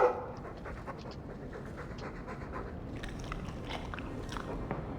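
A dog in the Dragon Age 2 video game pants and chews close up, with wet slobbering bites and quick breaths running continuously at moderate volume.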